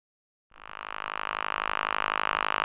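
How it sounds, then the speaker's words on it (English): A steady, continuous old-fashioned dial tone from a vintage telephone on a room-to-room exchange starts abruptly after a moment of silence and holds evenly, loud and close. "You get the old-fashioned dial tone"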